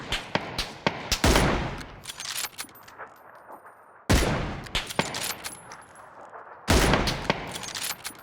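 An MP5K submachine gun fires in PUBG, with sharp single shots and three loud, dense bursts of rapid automatic fire, close and punchy, separated by quieter gaps of footsteps and clatter.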